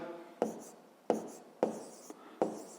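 A pen scratches numbers onto paper in four short, quiet strokes spaced roughly evenly apart, close and soft with no talk.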